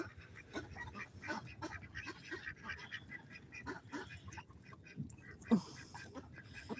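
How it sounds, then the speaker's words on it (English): Farm ducks quacking and honking in a loose group at close range, irregular calls overlapping over a soft rustling background, one sharper louder call standing out near the end. "these are our ducks."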